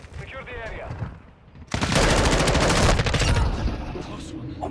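Loud, sustained automatic gunfire from an M4 rifle firing fire rounds in a Call of Duty match, a dense burst of rapid shots after a quieter stretch of game ambience, close and continuous for about three seconds.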